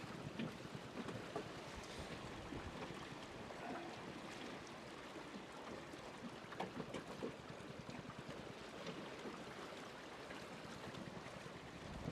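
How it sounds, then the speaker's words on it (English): Steady, roaring wind buffets the microphone throughout aboard a boat on sea trials, with rushing water beneath it and no break in the blustery noise. "sustained gust"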